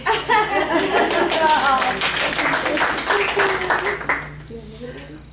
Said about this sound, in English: We can clap both times.